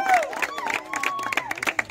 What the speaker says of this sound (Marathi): जोरदार टाळ्या वाजवा मित्रांनो